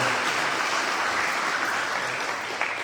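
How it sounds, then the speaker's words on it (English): Audience applause at a Sharad Navaratri devotional music session, a dense, steady wash of many hands clapping together, loud and close, with no talking over it. "Give him a lovely round of applause, Brother Virendra."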